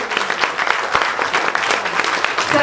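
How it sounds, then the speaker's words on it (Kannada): A crowd at a Kannada film event claps for the team behind a new song, giving a short burst of dense, lively applause with overlapping individual claps. "ಜೋರಾದ ಚಪ್ಪಾಳೆ ಬರಲಿ"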